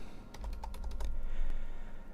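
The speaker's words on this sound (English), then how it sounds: "Now, typing the password" A password being tapped out on a computer keyboard for a remote-machine command: a brisk cluster of close, clicky keystrokes followed by a softer trailing key press, with a steady low background hum and no talking.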